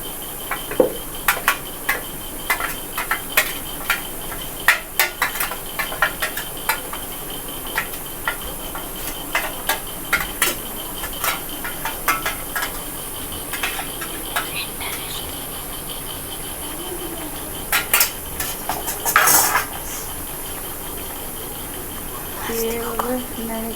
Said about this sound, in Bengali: দিয়ে এভাবে নেড়ে চেড়ে দিব।